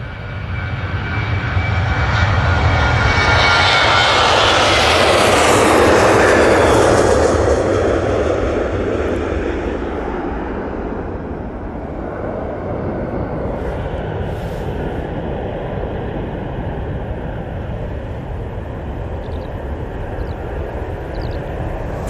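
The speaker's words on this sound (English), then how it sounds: "Next out, we have this Ryanair to Venice 737-800." A Ryanair Boeing 737-800 jet departing Manchester Airport for Venice roars loudly through its takeoff run, peaking as it passes and then fading into a long, steady rumble in the distance.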